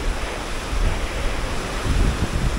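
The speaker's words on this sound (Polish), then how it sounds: "Fale." Strong river current and waves below a bridge in Kutaisi, heard as a dense, steady rushing roar with gusty wind buffeting the microphone, loud and close with no voices.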